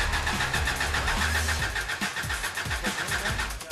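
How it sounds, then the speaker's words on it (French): A car engine cranks repeatedly in a garage competition, a steady whirring starter with rhythmic low chugs that never quite catches, loud and continuous with no talk. "Faire démarrer le moteur s'est avéré difficile en tout temps."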